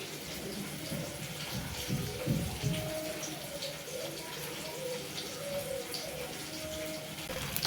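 Tamarind water mixed with chilli, coriander and turmeric powders is poured into a pan of sautéed onion, tomato and garlic for a garlic-pepper kulambu, giving a steady close gushing, sizzling wash throughout with no speech.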